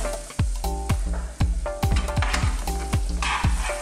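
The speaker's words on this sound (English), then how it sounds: "So now I've just tossed these around" Banana slices tossed and frying in a pan for a sesame-honey dessert, producing a loud sizzle punctuated by sharp, rhythmic clanks of a utensil against the pan, roughly a dozen hits; no one talks.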